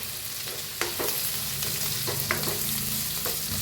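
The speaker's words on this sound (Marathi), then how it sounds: "तर भाजले बघा टमाटो कांदा" Tomatoes and onion roasting in a pan for a mutter paneer masala, giving a steady close sizzle broken by several scraping stir strokes, with no voices.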